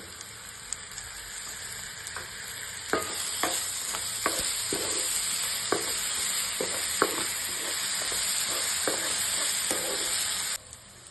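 Ginger garlic paste sizzles in a pan under a steady frying hiss while a spoon scrapes and taps against the pan in irregular strokes, close and fairly quiet.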